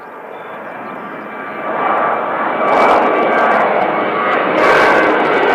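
Jetstar jet airliner at Christchurch Airport, a steady broadband engine roar that swells louder partway through as the aircraft passes, continuous with no talking.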